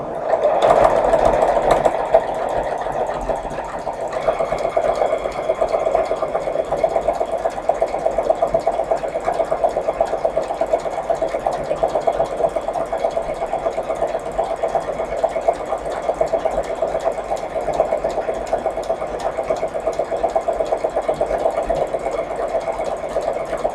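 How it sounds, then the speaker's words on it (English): A sewing machine runs steadily, stitching about a quarter inch from the bottom edge of polyester fabric, with a continuous close mechanical whir and hum that holds at an even level throughout. "I will sew the bottom again about 1/4 of an inch right at the edge"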